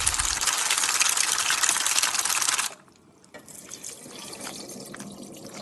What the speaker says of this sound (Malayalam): നന്നായി 2-3 വെള്ളത്തിൽ നമുക്ക് ഇത് ക്ലീൻ ചെയ്തെടുക്കാം.